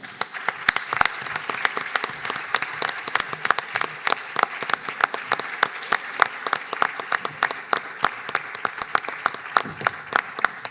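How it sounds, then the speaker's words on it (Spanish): An audience at a conference lecture claps steadily for several seconds, dense sharp applause that holds an even level throughout without cheering. "pues le damos un aplauso"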